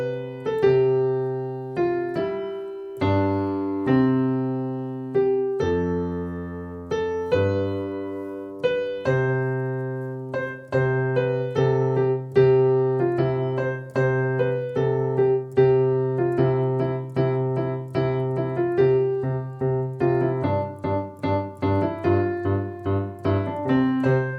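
Piano playing the carol Joy to the World with both hands together in a simple beginner arrangement, a clear melody over low bass notes, steady and moderately loud with no talking.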